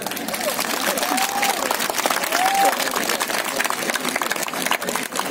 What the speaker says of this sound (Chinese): 用给澎湖最热烈的掌声